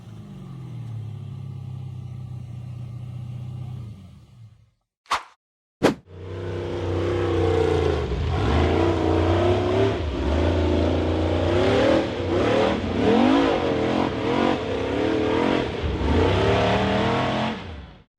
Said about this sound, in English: The dark blue buggy powered hard up the barren, rocky gravel slope.